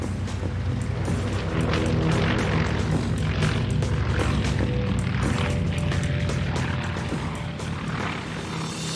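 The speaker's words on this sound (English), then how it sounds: "these Cold War-era Grummins remain unchallenged in their new role as Firecat retardant bombers" Steady droning propeller engines of a Grumman Firecat retardant bomber at a mountain wildfire, a continuous fairly distant rumble with no talk.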